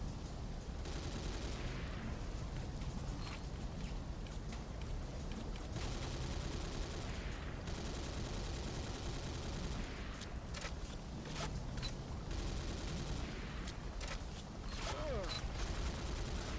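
A gun emplacement firing in Command & Conquer: Renegade: scattered sharp shots and short bursts at a moderate distance over a steady noisy game background, fairly faint, with some voices heard.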